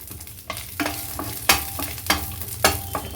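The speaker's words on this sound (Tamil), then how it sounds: "அதுக்கு முன்னாடி நம்ம முந்திரியையும் வறுத்து வச்சிடலாம்" Cashews roasting in ghee in a pan, a steady low sizzle broken by several sharp stirring scrapes and clatters spaced about a second apart, close and fairly loud with no voices.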